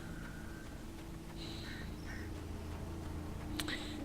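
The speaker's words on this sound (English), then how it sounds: "Bloody birds!" Birds quack in the Alan Wake video game, a few short calls bursting out over a steady low ambient hum, fairly faint and alone with no talking.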